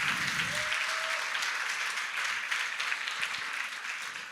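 Applause from a church congregation during a sermon, a dense steady wash of clapping filling the whole clip with no speech over it.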